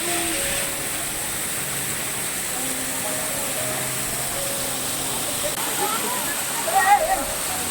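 A waterfall in Chikmagalur gives a steady, even rush of falling water that fills the whole scene, with faint voices and a brief louder splash near the end.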